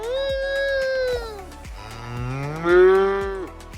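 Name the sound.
cow mooing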